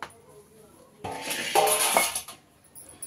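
Lemon rice made with basmati is scooped onto a plate: a quiet start, then a burst of spoon scraping and metallic clinks against the dish before it settles again.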